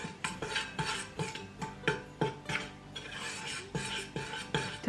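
A utensil stirring cinnamon shortbread dough with a pinch of salt in a bowl, giving a steady rhythmic scraping and thumping, roughly two strokes a second, close and clear with no talking.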